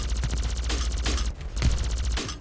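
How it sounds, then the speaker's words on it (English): A rapid-fire pulse laser weapon blasts in Mech Havoc, a fast stuttering stream of sharp zaps with a few heavier bursts mixed in, loud and continuous. "It's kind of like a pulse laser, but like really quick."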